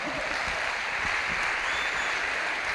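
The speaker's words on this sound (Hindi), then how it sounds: "जोर से ताली बजाना" An audience claps at an Amway celebration event. The applause is steady and dense, holds at an even level throughout and has no voices over it.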